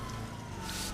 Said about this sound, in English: Don't look at the police cars.